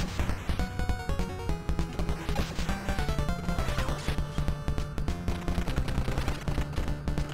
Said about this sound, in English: So now I shoot missiles